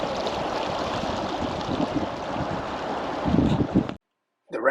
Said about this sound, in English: Very swift current.